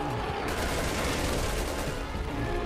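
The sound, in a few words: gunfire in video game Resident Evil 6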